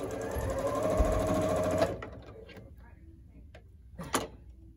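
A sewing machine stitches quilt block pieces together in a fast, steady buzzing run that stops after about two seconds, followed by quiet handling noises and a soft clack.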